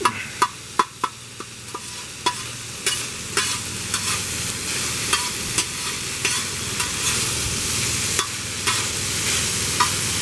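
Ground Asian carp frying with tomatoes and other vegetables in a pan, a steady close sizzle broken by sharp scraping clicks as the mixture is stirred and the clumps are broken up.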